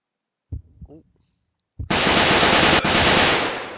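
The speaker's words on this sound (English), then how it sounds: "fire our weapon at enemy, and we'll see how much that gets up by defeating an enemy by using the gun" Rapid automatic gunfire from a weapon shooting at an enemy in a computer game, loud and sustained for about two seconds after a couple of brief softer blips.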